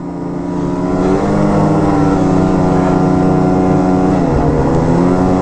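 A loud, close 2020 Arctic Cat Riot snowmobile engine revs up quickly to a high, sustained whine, holding steady with slight pitch dips.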